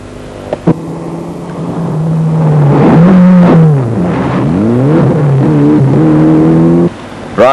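A loud Mitsubishi Galant rally car engine revs and climbs through rising and falling gears, roaring steadily close by before cutting off near the end.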